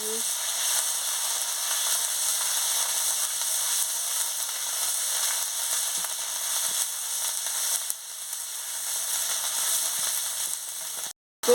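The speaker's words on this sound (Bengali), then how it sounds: "দিয়ে মশলাটাকে ভালো করে ভেজে নিচ্ছি।" Steady, loud sizzling of spice paste with turmeric frying in a hot pan, continuous crackle with a brief cut near the end.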